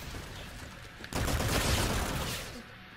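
Sustained game gunfire in Call of Duty: Infinite Warfare on the Neon DLC map, a dense burst of rapid shots kicking in about a third of the way through and continuing loudly, with a quieter low rumble of ambience before it.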